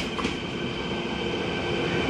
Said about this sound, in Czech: jede Regio Banter na osobním vlaku.